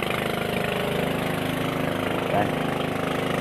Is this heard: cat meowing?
no